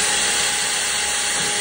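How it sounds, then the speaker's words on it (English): A power drill pre-drills at a 45-degree angle into Ipe hardwood decking, giving a loud, steady, high-pitched whine that runs unbroken for under two seconds. "So what we do is take a drill bit for a pre-drill."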